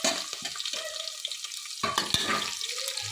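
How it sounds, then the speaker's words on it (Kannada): Capsicum, green chillies, curry leaves and tomato fry in a hot pan with a steady hiss, the sizzle dipping briefly before returning fuller, with light stirring scrapes throughout. "ಫ್ರೈ ಮಾಡ್ಕೊಳ್ಳೋಣ."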